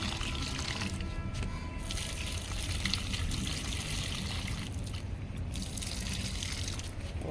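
Water pours and splashes into a plant pot in a steady, continuous stream, close by and fairly loud.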